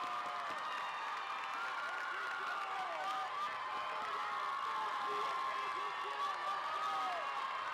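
A crowd roars and cheers steadily for the Woodlands Elite Generals senior cheerleading team at a competition, with shouts, whoops and applause blending into a dense, constant wash heard from within the stands.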